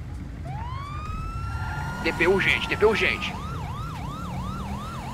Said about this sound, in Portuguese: Pode ligar a sirene pra ir mais rápido